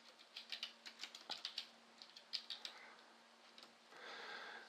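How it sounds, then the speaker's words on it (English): Keys clatter on a computer keyboard as a post is typed into a web page, a quiet, uneven run of close clicks and taps with short pauses between bursts, no talking. "And then I could just start typing my post."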